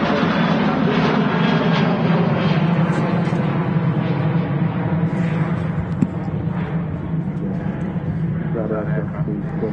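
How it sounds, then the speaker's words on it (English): A Ryanair Boeing 737-800 jet departs Manchester Airport for Dublin with a steady, broad engine roar that holds throughout, while someone talks over it. "we had that Ryanair departing to Dublin"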